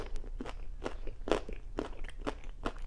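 Loud, close crunching of raw vegetables from a veggie tray, with sharp bites and chews repeating about every half second, alone with no talking.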